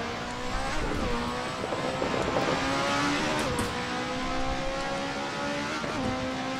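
The Lotus 98T Formula 1 car's engine howls steadily at Imola in the Assetto Corsa racing game, its pitch rising and falling through repeated gear shifts, loud and continuous without talk.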